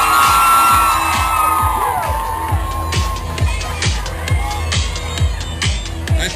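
Outdoor crowd at a nighttime Glow Run event in downtown Houston cheers and whoops, a loud swell at first, then a pounding music beat with scattered shouts and yells over it.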